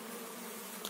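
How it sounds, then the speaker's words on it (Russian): Honeybees flying around their hive, young bees learning to fly near the brood, making a steady close buzzing drone with no talk. "Сейчас они учатся летать и осваиваются, понимают, где их домик, где их улей."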